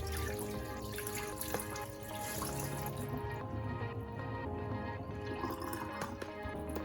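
Tap water running into a bowl of rice being rinsed for Jamaican rice and peas, a steady splashing and trickling stream with small drips and clinks, close and fairly quiet.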